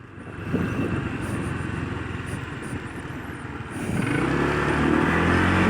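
A Honda ADV 150 motorcycle runs steadily while being ridden and maneuvered in Singapore, a continuous close engine drone whose pitch and loudness shift upward near the end as the rider changes speed.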